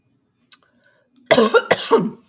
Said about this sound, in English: something's making me cough.